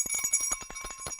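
The opening bell at the London Stock Exchange rings out at the start of UK trading on 5 November 2025, a steady bright metallic ringing with quick repeated strikes running through the whole moment.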